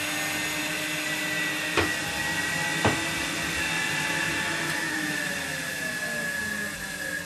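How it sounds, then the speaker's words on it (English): A vacuum cleaner, used as the suction source for vacuum forming plastic sheet, drones steadily with a whining hum, interrupted by two brief clunks, running continuously throughout. "On with the vacuum cleaner."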